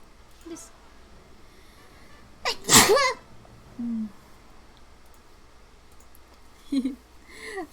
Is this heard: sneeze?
yes